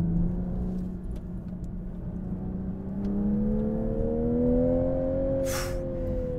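A 2022 Toyota Supra's engine pulls hard in third gear, its close, steady drone rising smoothly in pitch, with no talking.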